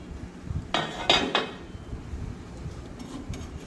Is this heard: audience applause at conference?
no